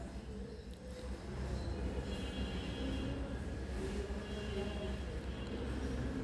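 A small dragon ride train at an amusement park rumbles and clatters along steadily nearby, with faint crowd murmur in the background.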